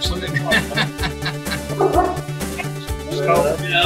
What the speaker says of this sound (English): my dog's a bit loud today